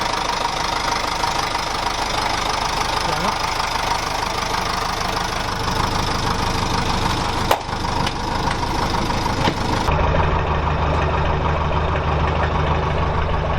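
A 1969 OM Lupetto truck engine running steadily, a close, loud, continuous diesel idle with a knocking rumble, a brief thump partway through and a deeper shift near the end, with no talk.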